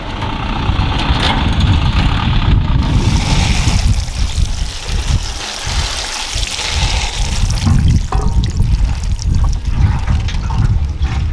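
Water pours steadily over papaya seed polytubes during irrigation, a continuous near rush and trickle that stays loud and broadband throughout without pause.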